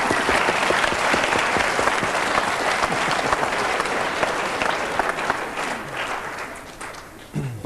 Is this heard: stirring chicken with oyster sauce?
no